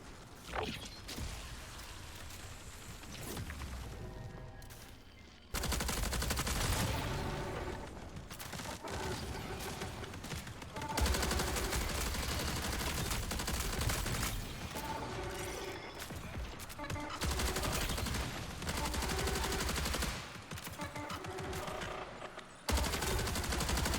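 Bursts of gunfire from the video game Marathon, with rapid automatic volleys and mechanical clatter in several long loud stretches separated by brief lulls, no talk.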